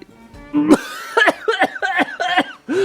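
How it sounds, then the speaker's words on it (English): A person coughs several times in a row, harsh, close bursts that trail into breathy, laugh-like sounds. "That cough was not forced. It was real."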